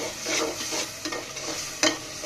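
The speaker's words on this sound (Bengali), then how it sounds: "এখানে মশলা কষাচ্ছি" Spices frying and being stirred in a pan for a bottle gourd and prawn curry, a steady close sizzle with a few scraping strokes of a spoon, no talk.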